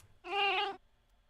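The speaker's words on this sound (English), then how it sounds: "Okay, that was a cat." A single cat meow from the Arcadia Fallen II demo dating game, short, clear and close, rising then falling, with quiet before and after.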